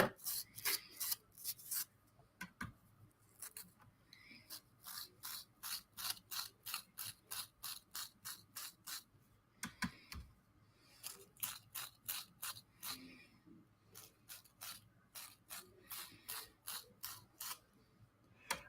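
A toothbrush flicks paint splatter onto a sketchbook, a rapid series of short, crisp bristle flicks repeated in quick bursts with brief gaps, close and fairly quiet.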